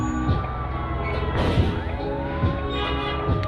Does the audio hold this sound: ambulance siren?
yes